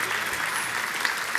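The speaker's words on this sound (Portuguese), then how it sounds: "É por isso que os aplausos começaram, vão repetir" A church congregation claps together, a dense, even wash of hand claps at moderate loudness that holds steady throughout, with no voices heard.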